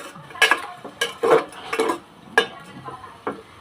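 Metal clatter and clinks of a cookware lid being handled and set onto a pot of dinuguan, several sharp knocks spaced over a few seconds, close by with no talk.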